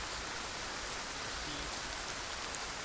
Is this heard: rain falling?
yes